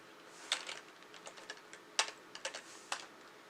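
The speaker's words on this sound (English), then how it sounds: "you can use the keyboard. That's kind of nice." Irregular, soft clicking keystrokes on a computer keyboard during a PC setup, close and fairly quiet in a still room with no talk.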